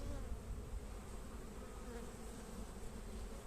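Honeybees buzz steadily around an opened hive during a beekeeping colony transfer, making a dense, continuous hum of many insects close by, with no voices.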